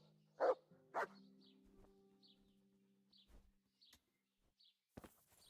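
Two sharp, close dog barks ring out in Kingdom Come Deliverance, followed by a few faint chirps and soft clicks against near silence.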